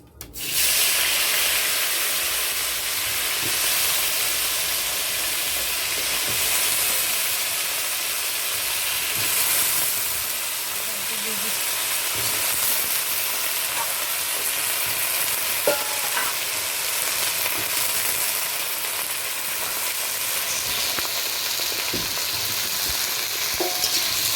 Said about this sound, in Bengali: সবজিগুলো তোরা ভেজে নেবে।